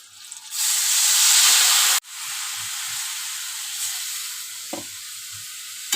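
Water poured into a hot pan of frying vegetables erupts in a loud, close hiss that cuts off abruptly, then settles into a steady sizzle with occasional soft stirring knocks.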